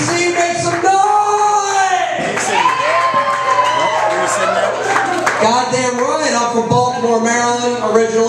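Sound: audience applauding and cheering for Ralph Cooper

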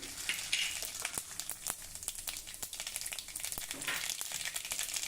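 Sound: fenugreek seeds, cumin and mustard frying in hot oil

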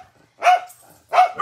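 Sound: dogs barking

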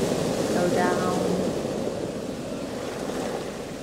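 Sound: ocean waves washing over rocks

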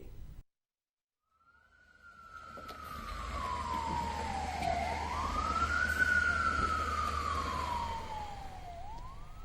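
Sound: air raid sirens in Israel during Iranian missile attack

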